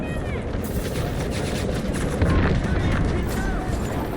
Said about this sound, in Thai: กระสุนมาเป็นฝูงเลย